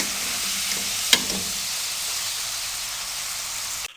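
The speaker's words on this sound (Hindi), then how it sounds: "अब इसी तरीके से बाकी के हम फ्राई कर लेंगे।" Potato chips frying in hot cooking oil, a steady dense sizzle and hiss throughout with a brief stirring clink near the start.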